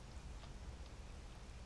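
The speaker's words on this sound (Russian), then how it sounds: "Да дождь, какой дождь?" Steady rain in the S.T.A.L.K.E.R. Call of Pripyat game world, a continuous broadband hiss with a low rumbling bed, faint and even throughout with no voices.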